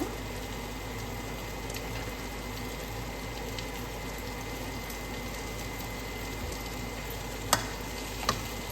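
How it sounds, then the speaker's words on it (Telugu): Potatoes and onions fry together in a pan, giving a steady, dense sizzle with a constant background hiss and a couple of sharp clicks near the end. No one speaks. "వన్ మినిట్ ఉల్లిపాయ వేగాక బంగాళదుంప వేస్తున్నానండి"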